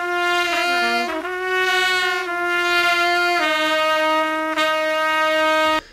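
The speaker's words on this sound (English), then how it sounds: "I'm going to pan it over so you can hear the second sweep of horns" Second trumpet and second tenor saxophone parts from a song, a sweep of sustained brassy horn notes with a few quick pitch slides early on, loud and close with no voices.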